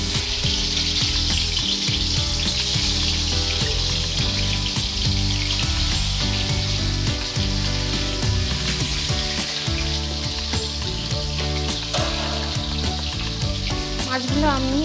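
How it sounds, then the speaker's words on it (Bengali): Pieces of snakehead fish sizzle steadily in oil already used to fry onions, a loud, continuous crackling frying sound with occasional stirring and no talk. "এবার আমি পেঁয়াজ ভাজা তেলের মধ্যেই মাছগুলো ভেজে নেব।"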